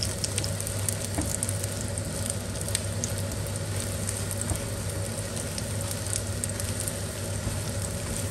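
An egg omelette seasoned with red chili and salt frying in a pan, a dense, continuous sizzle and crackle heard up close, steady throughout with no voices.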